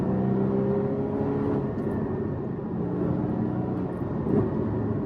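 Porsche Cayman GT4 engine with a steady, fairly loud drone and a short throttle blip on a downshift near the end, heard from inside the car with no talk.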